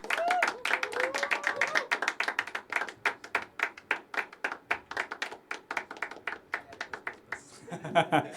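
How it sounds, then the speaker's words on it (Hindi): Audience at a poetry open mic clapping for the final performer, a steady run of close, sharp hand claps that thins into separate claps before a brief burst of voices at the end. "पसंद आया पीस तो आखिरी परफॉर्मर के लिए जोरदार तालियां।"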